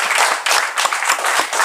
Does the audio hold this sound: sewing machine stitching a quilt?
no